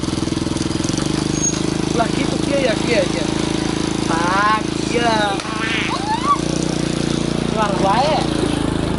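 A motorcycle engine runs at a steady, rumbling idle close by, continuing throughout beneath people chatting over it in a rural village setting.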